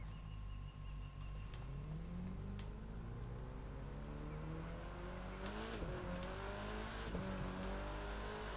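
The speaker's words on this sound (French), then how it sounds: "on va écouter le bruit de la voiture" A car engine in a racing video game roars continuously, its pitch climbing and dropping as it revs and shifts gears, with occasional tire noise.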